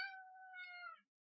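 One high-pitched meow from a pet cat, close and soft, holding a steady tone for about a second before it ends abruptly in silence.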